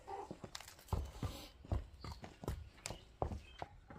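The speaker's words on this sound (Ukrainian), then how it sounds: "Кінь чекає, нікуди не уходить." A horse shifts and steps about on the ground, its hooves landing in an irregular series of close, moderately loud thuds.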